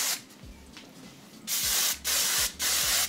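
Flexible-hold hairspray mists onto the ends of long hair in short bursts: a faint first spray, then three louder hissing sprays close by, each with a clicking pump.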